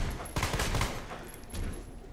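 Gunfire in the video game Resident Evil 2 Remake: a quick burst of several sharp shots fired in rapid succession, loud and close, with no talk over it.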